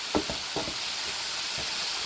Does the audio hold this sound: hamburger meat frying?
yes